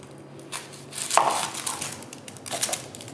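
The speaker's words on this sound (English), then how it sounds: "We're going to chop up an onion." A knife chopping an onion on a cutting board in a home kitchen, with irregular close crisp cuts and thuds over a few seconds, no talking.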